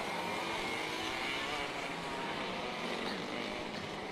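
Race cars heading out on a formation lap make a steady, broadband engine roar that holds constant throughout, fairly loud with no clear passes or gaps.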